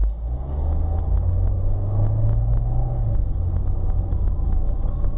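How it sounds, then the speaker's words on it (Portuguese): A Peugeot 307 with the AL4 automatic transmission in sport mode holds its engine at higher revs, producing a steady, loud low rumble and drone heard from inside the car, with a sustained engine tone. "Esse modo faz o motor trabalhar em regimes de rotação mais altos."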